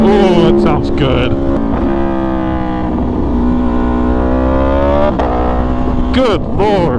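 Close, loud revving from an Aprilia motorcycle engine, holding a buzzing tone before blipping up again, with clusters of exhaust pops and crackles at the start and end.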